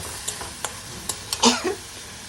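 Turmeric and Kashmiri chili powder sizzle briefly in hot oil in a pan, with a few sharp stirring clicks and a louder burst of frying near the middle, short and close.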